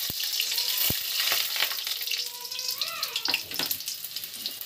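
Chopped garlic frying in hot white oil in a pan while chilli chicken is being made, giving a steady broadband sizzle with a few sharp clicks and utensil taps, close and continuous with no talking.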